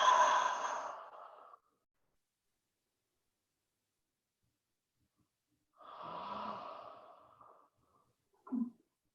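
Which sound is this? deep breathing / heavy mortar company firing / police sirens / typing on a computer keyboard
deep breathing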